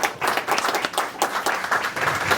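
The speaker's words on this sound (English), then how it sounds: "How about a round of applause for her?" An audience claps in a brisk, close round of applause, with individual hand claps distinct within the patter, lasting a couple of seconds without talk.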